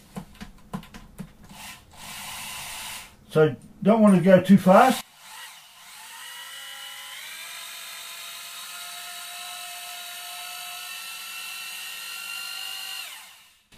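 A beater spinning on a power drill whips honey to cream it, giving a steady, moderately loud whirring hum for most of the stretch, held at an even speed; a voice speaks briefly over the early part of the run.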